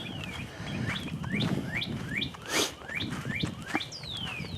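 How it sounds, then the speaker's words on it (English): Birds chirp beside a suburban walking trail, with a string of short, bright tweets repeating every half second or so over soft outdoor background noise. A longer sweeping call closes the passage. "You hear those birds?"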